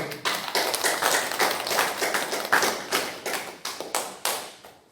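A church congregation claps together after a closing prayer at a Korean Sunday worship service. Dense, steady applause with sharp overlapping claps lasts about five seconds, fairly close and without talk.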